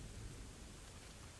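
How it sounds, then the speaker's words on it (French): Steady rain pouring down in the game ARK, a dense, even hiss that continues without a break and with no voices. "Dieu fait tomber la pluie"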